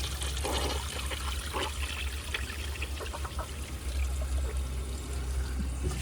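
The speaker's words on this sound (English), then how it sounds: "Let's see how it does on a second flush." A 1983 Gerber Mt Vernon toilet flushes, giving a steady rush and trickle of water that keeps running the whole time, close up and with no talking.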